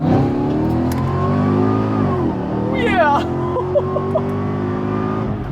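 A Mercedes E55 AMG wagon accelerates hard from inside the cabin, the engine note climbing steadily, dipping at a gear change and climbing again, loud and close, with a brief voice under it.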